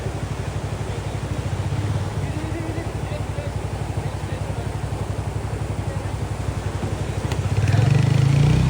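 A heavy motorcycle over 240 cc rides through rough terrain in Ladakh, its engine a steady, close, throbbing drone that swells louder near the end, with faint talk beneath.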